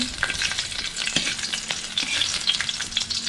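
Garlic frying in hot cooking oil, a busy crackling sizzle with scattered pops and stirring scrapes, close and continuous with no talk.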